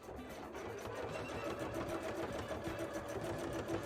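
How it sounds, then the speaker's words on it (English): A sewing machine stitches a moulded bra, running as a steady, continuous mechanical whir close by with no pause. "We sew down the other side."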